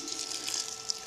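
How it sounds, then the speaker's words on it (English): Water runs into a cooking pot for a beef curry, giving a brief, steady splashing pour at close range. "I'm going to start with some water"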